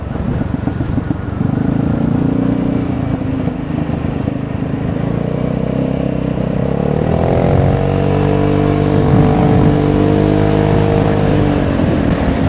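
Vespa scooter engine droning steadily while riding through narrow local lanes, loud and continuous with rising and falling pitch as the throttle changes, wind rumble underneath.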